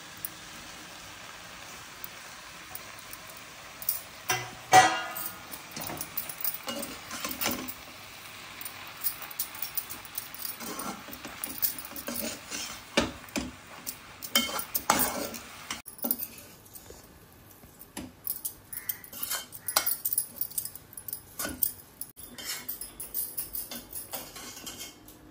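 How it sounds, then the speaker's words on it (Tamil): Torn chapathi pieces being tossed and mixed with masala in a pan, giving soft scraping, clinking and stirring noises in irregular bursts at close range, with no talking. "மசாலா கூட இந்த சப்பாத்தி மொத்தம் நல்லா கலந்து வர்ற அளவுக்கு நல்லா கலக்கிட்டு"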